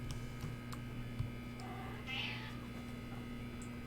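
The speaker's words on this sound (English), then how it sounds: "Hello, cat." A house cat meows once, short and fairly faint, over a steady electronic hum and light keyboard clicks in a quiet room.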